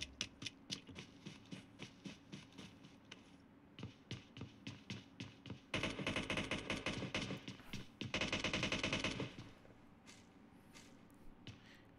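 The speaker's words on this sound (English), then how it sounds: "More gunshots." Rapid bursts of automatic gunfire from the battle royale game PUBG during a squads esports grand final, with rhythmic single shots giving way to dense, louder sustained volleys, then quieter scattered shots.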